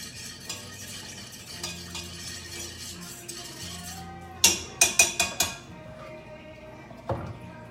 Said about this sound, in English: Stir it constantly here in the beginning